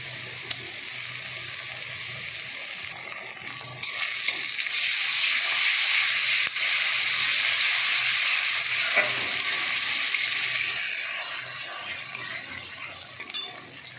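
Ginger and garlic paste sizzles loudly in hot oil in a frying pan, a steady broadband hiss that swells after a few seconds and holds with occasional stirring clinks, no voices.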